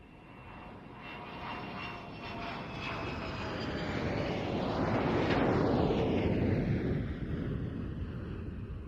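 A Nimrod military jet aircraft performs at a flying display, its engine roar swelling steadily as it approaches and passes close by, peaking mid-pass before easing off, with some wind noise on the microphone.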